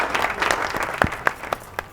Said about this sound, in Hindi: तालियां तो बुला लें यार बिस्मा के लिए